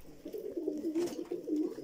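Pigeons of fancy and homing breeds cooing close by, repeated low throaty burbling coos over faint background noise.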